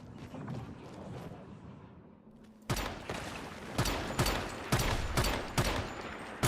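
Gunfire from the looter shooter Once Human, aimed at orbs: after a quieter, muffled stretch, loud sharp shots crack out in a steady series of separate bursts.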